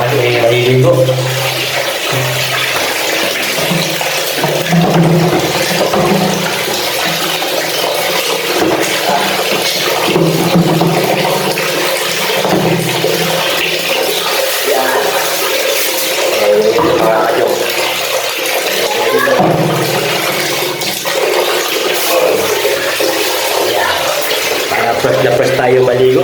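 Water runs and splashes continuously during bathing, a loud, dense rushing wash close by with uneven sloshes, and a voice talks faintly underneath.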